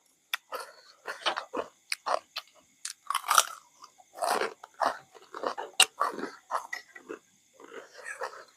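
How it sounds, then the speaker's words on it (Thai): Close crunching bites and chewing of crispy fried pork belly, a series of sharp crackly bursts in an irregular rhythm, clear and alone against a quiet background. "หมู3ชั้นทอดจ้ะพี่น้องกรอบบุ้จ้ะ"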